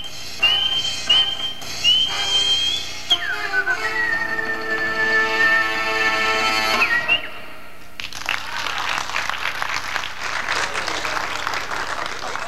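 A champion whistler sustains loud, piercing whistled notes with sliding pitch changes, then the tune ends and an audience breaks into sustained applause and cheering.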